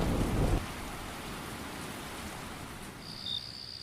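Steady rain hisses on surfaces during a storm, with a brief low rumble of thunder at the start and a faint high insect tone later.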